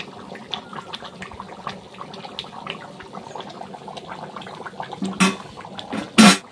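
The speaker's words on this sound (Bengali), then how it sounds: "তরকারিটা বেশ ভালো ফুটছে না?" A pot of duck curry bubbles and simmers softly up close, with two louder sputtering bursts near the end.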